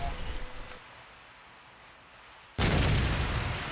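A grenade detonates in a Call of Duty 4 match, a sudden loud broadband boom that cuts in after a quieter stretch of game noise and holds as a sustained roar to the end.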